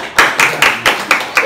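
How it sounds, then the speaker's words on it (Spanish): Six separate sharp hand claps at a steady, quick rhythm in a classroom, loud and close with no talk over them. "Un aplauso."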